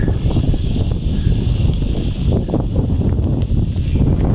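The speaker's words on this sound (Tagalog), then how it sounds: "Lakas yung hangin dito." Strong, cold wind buffeting the microphone on the Aurora Rough Road, a high mountain route, a loud continuous roar and rumble that stays steady throughout, with no talk.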